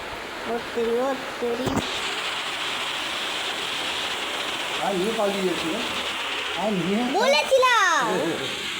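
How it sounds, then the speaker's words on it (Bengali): Heavy rain pours down as a dense, constant wash of noise, while children's and adults' voices chatter over it throughout, with a few sharp calls standing out near the end. "বাপরে কি বৃষ্টি রে, এই বৃষ্টি কোনোদিনও থামবে না"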